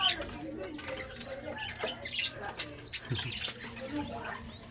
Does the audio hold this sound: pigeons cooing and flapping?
yes